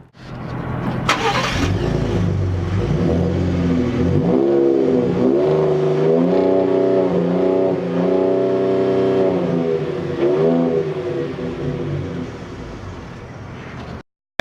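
A Ford Raptor pickup's engine revs up repeatedly in a series of rising and falling pulls, loud and close, holding a steady idle between blips.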